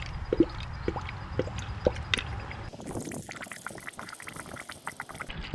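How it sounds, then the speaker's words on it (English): Coolant gurgles and bubbles in the cooling system of a 2007-2016 Honda CR-V while it is filled after a thermostat replacement, with soft liquid drips and glugs close up, steady and fairly quiet. "it's gonna bubble, so I'm gonna kind of hold this there so it's not too much"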